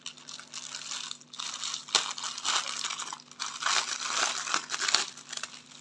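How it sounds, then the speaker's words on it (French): A cross-stitch kit package being unwrapped makes continuous close crinkling and crackling of plastic wrap, rising and falling in irregular bursts for several seconds. "Je la déballe en même temps que vous, puisque je ne l'ai pas ouverte."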